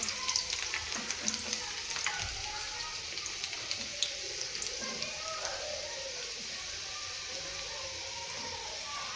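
Garlic cloves and curry leaves hitting hot oil for a quick dal and spinach recipe, giving a steady, fairly quiet sizzle and crackle that runs throughout with small pops and no talking.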